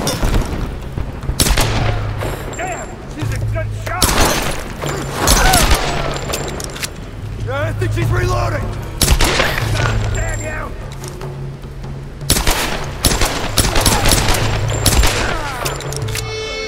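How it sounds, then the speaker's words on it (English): Gunfire in the video game Tomb Raider (2013), repeated bursts of sharp shots and booming volleys spread across the span, loud and close, with voices talking between and under the firing. "Gunshot!"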